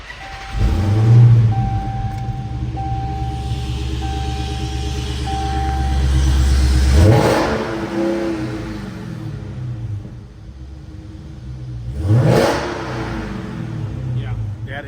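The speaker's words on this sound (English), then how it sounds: "I'll fire it up. You guys can listen to it." A stock-exhaust 2019 Dodge Charger Hellcat engine cranks to life with a loud low rumble, then settles into a steady idle broken by two sharp revs, with faint service-shop background noise.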